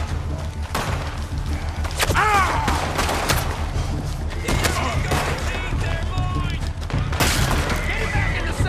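Rapid bursts of gunfire and heavy thuds crack through a busy Red Dead Redemption 2 game soundscape, with shouted voices and dense background noise throughout.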